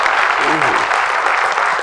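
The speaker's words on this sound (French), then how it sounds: "On va vous applaudir très très fort." Audience on a talk show applauding a lawyer guest, continuous dense crowd clapping, loud and steady, with a brief spoken voice rising under it midway.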